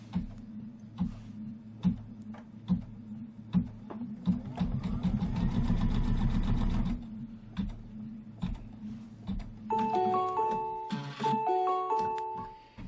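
An embroidery machine threaded with white thread stitches out a placement line on a pillow wall hanging: a dense, rapid mechanical whir in the middle, quieter clicks around it, then a series of short electronic beeps near the end.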